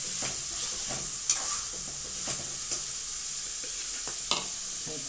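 Chicken biryani masala with chilli powder sizzles in a pan while a spoon stirs it, a steady frying hiss broken by regular scraping strokes, close and without talk.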